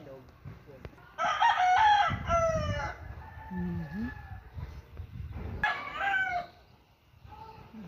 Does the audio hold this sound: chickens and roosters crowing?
yes